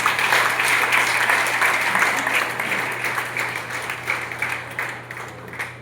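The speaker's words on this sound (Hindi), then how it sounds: "जोरदार तालियां" Loud, sustained applause from an audience at a business motivation meeting, dense clapping filling the room with a steady hum beneath, gradually loosening toward the end.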